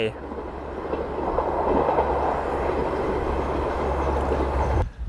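A train rolls through Ban Pok Paek railway station in Thailand with a loud, continuous rumble and rattle of wagons, holding steady for several seconds before dropping off abruptly.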